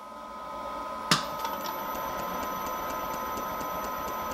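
A wood lathe spinning a 22-inch Osage orange dish at about 280 RPM, a steady motor hum with a faint repeating rhythmic tick, one sharp knock near the start, heard close and alone.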